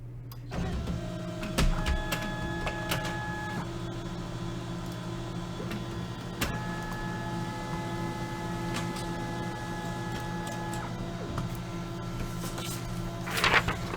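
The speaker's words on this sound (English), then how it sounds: "Just printing it out here real quick" A printer runs steadily while printing a list during a hockey card box break, with a constant low mechanical hum, tonal whirring passes that start and stop, and scattered clicks and ticks throughout.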